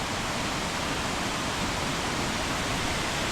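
A forest waterfall roars as a steady, dense rush of falling water, loud and unbroken throughout with no other sounds standing out.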